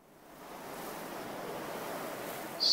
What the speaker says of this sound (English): Man, it is quite windy out here.